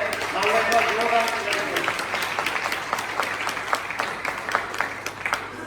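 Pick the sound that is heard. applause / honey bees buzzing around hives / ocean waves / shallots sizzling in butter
applause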